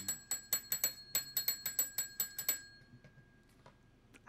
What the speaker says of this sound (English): My bell is going.